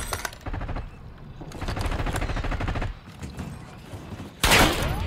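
Call of Duty: Warzone gunfire: rapid machine-gun bursts in several close, loud volleys with brief gaps and mechanical clatter, ending in a sharp, louder blast.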